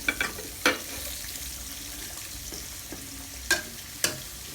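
Egg stir-fried with pickled mustard greens in a wok, a soft steady sizzle broken by a handful of sharp spatula scrapes and knocks against the pan, close and fairly quiet, with no one speaking.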